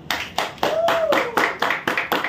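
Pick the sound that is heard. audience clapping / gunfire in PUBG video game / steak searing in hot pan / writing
audience clapping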